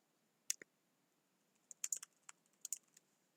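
Short bursts of computer keyboard typing, a couple of isolated clicks followed by a quick cluster of keystrokes, crisp and close in a quiet room.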